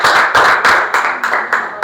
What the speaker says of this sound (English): Give them a big round of applause once again.